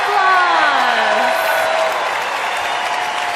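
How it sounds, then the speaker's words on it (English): A large convention-hall crowd at Minecon 2013 applauds loudly and continuously, dense clapping with some cheering, while a voice briefly rises and falls over the applause near the start. "So let's give them a huge round of applause."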